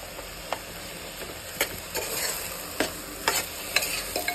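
Rice being stirred with masala in a frying pan, a soft continuous sizzle broken by irregular scraping knocks of the spoon against the pan, close and moderately quiet.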